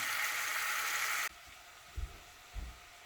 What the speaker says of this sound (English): it's simmering away quite nicely, or frying away